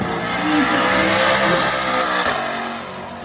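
A twin-turbo 2020 Ford Mustang GT500 launches off the drag strip line, a loud broad engine roar swelling as it accelerates hard, then fading slightly as it pulls away.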